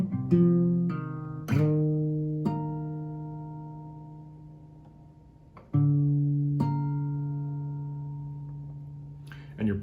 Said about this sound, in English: And you're plucking the high 2 strings when you play that harmonic